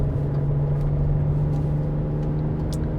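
A Porsche Cayenne off-road build on large tires drives slowly and gradually gains speed, giving a steady low engine and road drone heard from inside without talk.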